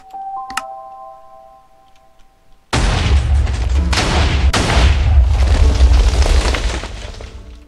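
A custom hammer sand cannon in Minecraft fires at about 2.7 seconds, a sudden loud blast followed by a sustained roaring, crackling rumble with a second burst around 4.5 seconds, after a quiet lead-in with a faint tone.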